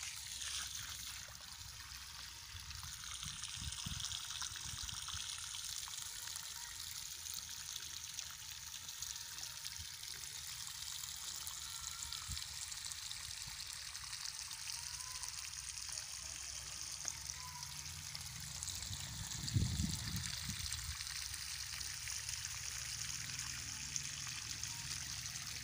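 Irrigation water runs steadily into a fenugreek field, a continuous trickling, gushing flow at moderate distance with a faint low rumble and a brief swell near the end; no one speaks.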